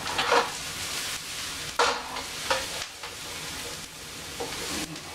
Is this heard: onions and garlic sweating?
yes